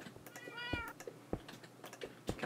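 Cat meowing in Minecraft, one drawn-out mew followed by a run of shorter clicky taps and bleeps, fairly quiet with no talk.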